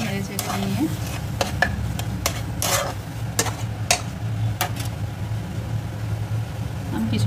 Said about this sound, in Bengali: একটু ভালোভাবে নেড়ে চেড়ে নিয়ে